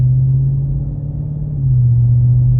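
A Dodge Scat Pack's engine in eco mode gives a loud, steady low rumble with a smooth dip and rise in pitch partway through as it shifts gears, with no talking.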